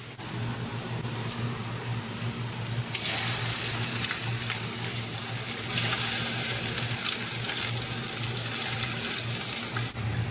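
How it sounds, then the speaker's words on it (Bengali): Onions with ginger-garlic paste fry in a pan with a steady, close crackling sizzle that grows brighter partway through, with no voices. "আমাদের পেঁয়াজ প্রায় ফ্রাই হয়ে গেছে"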